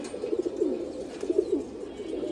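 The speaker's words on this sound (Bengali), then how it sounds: "এগুলো আমার বাসা বিড়ার কবুতর" Domestic breeder pigeons coo nearby in soft, low, repeated rolling calls, several short bursts over a faint steady background hum with no talk.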